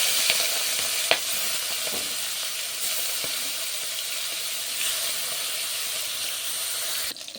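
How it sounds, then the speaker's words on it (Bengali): Prawns frying in hot oil in a kadai, a steady close sizzle and hiss that runs throughout, with occasional sharp pops and clinks from the pan. "তেলটা গরম হয়ে গেছে, এরপর মাছগুলো আমি কড়াইতে দিয়ে দিচ্ছি।"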